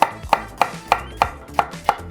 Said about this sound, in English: be careful when you guys are chopping up pepper